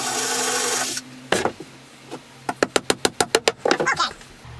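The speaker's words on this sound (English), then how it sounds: "I'm nailing all this down" Small nails driven into wood with a hammer, a run of about ten evenly spaced, sharp knocks near at hand, preceded by a burst of rasping and a couple of isolated taps.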